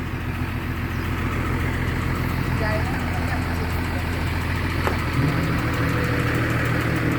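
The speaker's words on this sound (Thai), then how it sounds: "ครั้งแรกของการย้ายรถ รถเกี่ยว" A combine harvester's engine runs steadily while the machine is moved onto a trailer, a continuous mid-pitched rumble with a faint knock that holds throughout.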